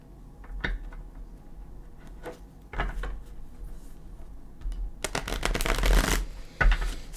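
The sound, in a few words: handling and shuffling Gilded Tarot cards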